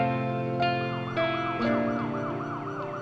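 An ambulance siren wails steadily, its rising and falling tone sustained and fairly loud with no voices over it.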